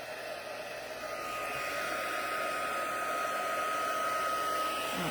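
A heat embossing tool runs on its high setting with a steady, loud, hair-dryer-like blowing whoosh and a constant whine that swells slightly after the first second.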